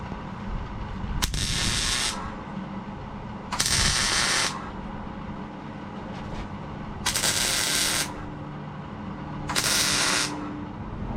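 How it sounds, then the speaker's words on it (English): Welding on a trailer chassis comes in four bursts of harsh crackling, sizzling arc noise, each about a second long, separated by quieter stretches with background rumble and shuffling. "So let me weld this."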